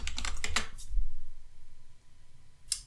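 A computer keyboard typing a command while setting up the Neo compiler: a quick run of close clicking keystrokes, then a pause and one final key press, with no talking.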